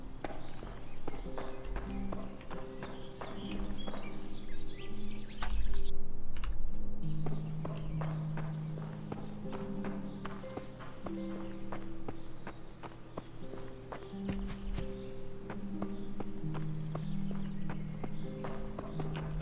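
Hooves clip-clop in a steady walking rhythm over a low, droning soundtrack in the game Kingdom Come: Deliverance, each step of the horse a light, close tap.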